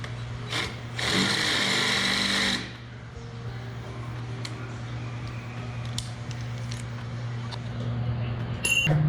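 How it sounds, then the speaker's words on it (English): A power drill whines for about a second and a half, boring holes in a steel plate, then gives way to quiet shop ambience with small clicks and handling noises. "I'm gonna drill some holes so that these can get welded on the back side like so."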